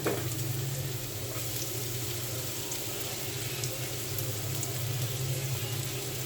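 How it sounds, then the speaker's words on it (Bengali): Sliced onions fry in a frying pan, a dense, even sizzle like light rain that holds steady and close throughout. "পেঁয়াজগুলো আমি ভেজে নিচ্ছি এখন।"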